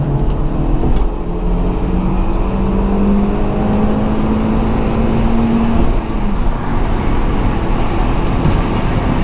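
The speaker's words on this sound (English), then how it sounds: "Here we are on to second, back open the throttle." Skoda Octavia accelerating in second gear with the throttle opened, a loud, steady engine and road drone with a rising tone, continuous and unbroken by talk.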